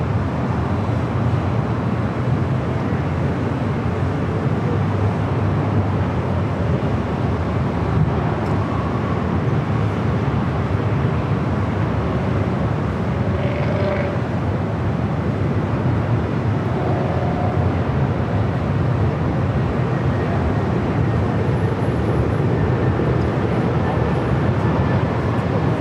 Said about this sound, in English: There's Condor heading up for a north side at takeoff